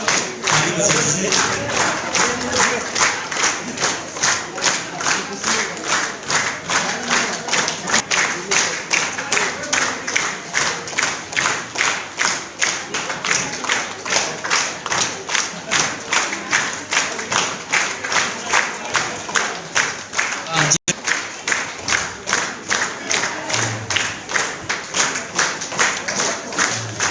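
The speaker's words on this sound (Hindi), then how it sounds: "ताली बजा दीजिए।" Crowd at a Mother's Day program in Yupia clapping in a steady, rhythmic unison beat that runs throughout, loud and close, with voices and a brief cheer mingled in.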